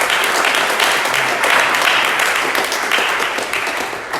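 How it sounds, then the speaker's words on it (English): A seated audience at a real-estate investment talk gives a round of applause, with full, steady clapping that holds for several seconds at even strength. "Give him a round of applause."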